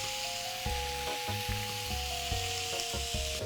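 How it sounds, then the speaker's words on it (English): Beef tenderloin searing on a grill, a loud continuous close sizzle with a steady high whine and rhythmic low thumps underneath, no talking. "Just the sizzle you're looking for."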